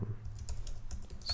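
Quick bursts of keystrokes on a computer keyboard as text is typed, a close, steady patter of clicky taps with no talking.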